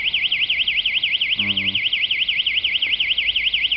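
A building security alarm in Lviv sounds at night, 2:33 a.m., set off by a loud group's shouting: a loud, steady warbling siren that sweeps up and down continuously, with a brief voice speaking under it.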